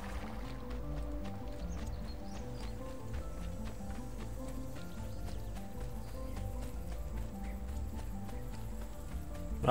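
Steady clip-clop of horse hooves at a trot in the video game Assassin's Creed 2, continuous and fairly even, over a dense layered background of game music and ambience.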